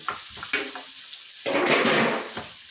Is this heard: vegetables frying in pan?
yes